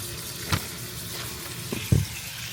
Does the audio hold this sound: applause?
no